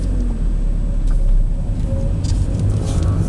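A Ford Focus 1.8 Ghia running on LPG idles with a steady low rumble right after starting, heard close and fairly loud with faint clicks over it.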